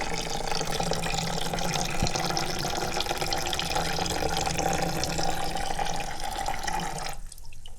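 Coolant being poured into a Kawasaki ZX-12R motorcycle's cooling system, a steady close trickle of liquid with dripping that runs continuously for about seven seconds and then stops abruptly.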